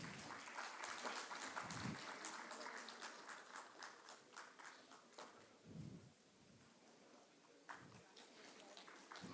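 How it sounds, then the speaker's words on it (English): An audience at the Kolkata International Poultry Fair 2023 breaks into dense, continuous applause that starts loud and gradually thins, with a few low thumps scattered through the clapping. "Can you have a big round of applause"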